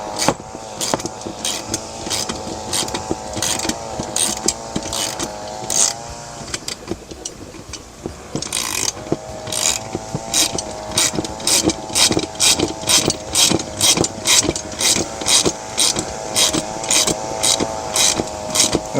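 A hand ratchet tightens a 1/2-inch nut onto a nylon-bushed locking washer, giving close, loud, rapid pawl clicks in steady bursts of strokes, with a brief pause midway before the clicking resumes.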